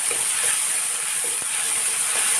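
Ingredients fry in hot oil for a traditional Assamese fish curry, making a loud, dense, continuous sizzle and hiss with faint stirring knocks underneath.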